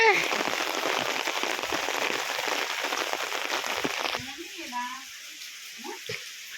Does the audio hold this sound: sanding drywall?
no